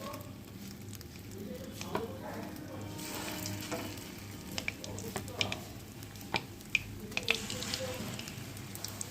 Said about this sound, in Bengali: তেল গরম হয়ে গেছে, চলো ছোটো ছোটো করে বড়ার মতো করে নেবো